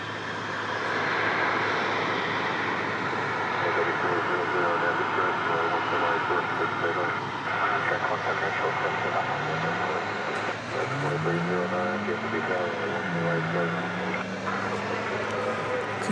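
Airplane taking off from a DFW Airport runway at night, a loud steady engine roar with a rising whine, heard at a distance under someone talking.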